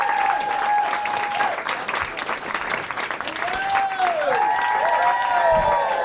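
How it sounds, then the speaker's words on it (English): Applause from a comedy club audience at the Comedy Cellar in New York fills the room for several seconds, a loud and dense crowd clapping with some whoops, while a voice talks and calls out over it. "Clap it up for Bob Little."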